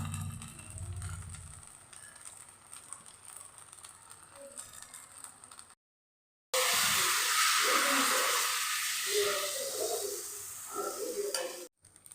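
Ghee sizzles and crackles steadily on a hot pan under a frying rava onion dosa, the hiss loud and close after a quieter stretch of faint stirring and scraping.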